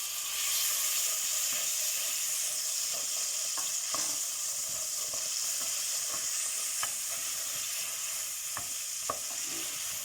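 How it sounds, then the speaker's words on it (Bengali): Garlic and onion frying in a hot handi pot, a continuous close sizzle and hiss with scattered clicks of a spoon stirring against the pot. "হান্ডি গরম হয়ে গেছে আমি রসুন আর পিঁয়াজ দিলাই"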